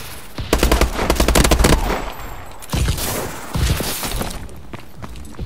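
Shooter video game gunfire: rapid automatic bursts crackle loudly in dense volleys, a long burst followed by shorter separate rounds, up close with no talk over it.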